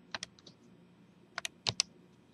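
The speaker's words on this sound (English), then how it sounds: "I could use the calculator, press log, and then type in 1000." Calculator keys pressed to enter 1000, a few quiet separate clicks, then a tight cluster of taps near the end, close up with no talking.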